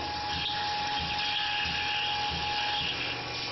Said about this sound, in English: 27/64 drill at 1500 RPM, 5 IPM feed, and a 40 thousandths peck